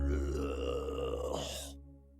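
A voice imitates a crocodile's throaty growl, a short, deep, rasping croak that sounds like a burp and fades out.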